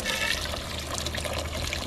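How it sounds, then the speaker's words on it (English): Water swirls and drains from a basin at an equator demonstration site in Ecuador, giving a close, steady trickling and gurgling wash throughout. "the water is spinning just a little"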